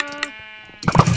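Sheep in the video game Minecraft let out a short bleat, heard briefly before a burst of noisy in-game clatter at the end.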